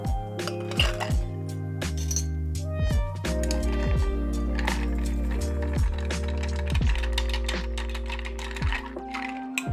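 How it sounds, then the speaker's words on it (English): Ice is stirred with cognac and Benedictine in a cocktail glass, producing close, continuous clinking and grinding of cubes in a busy, uneven rhythm. "Now let's go ahead and add some ice and stir."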